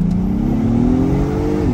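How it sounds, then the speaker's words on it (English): A 2022 Acura MDX Type S turbocharged engine accelerating in sports mode, a loud, smooth rising drone heard from inside the car with a faint turbo whine, engine pitch climbing then dropping near the end. "I'm gonna see if we can hear the turbo a little bit."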